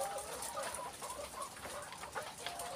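Laying hens clucking in a coop, a steady murmur of many birds with scattered soft clucks and calls, moderately faint and continuous with no talk.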